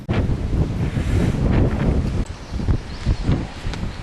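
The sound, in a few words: breeze blowing on the microphone during a country walk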